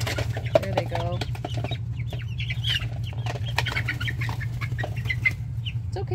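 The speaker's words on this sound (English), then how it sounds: "So overall, he's a really nice rooster." Rooster and hens in a backyard coop with new chicks, clucking and calling in scattered bursts over a steady low hum, with a brief flutter of wings early on.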